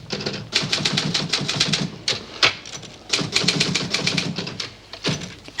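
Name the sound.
typewriter typing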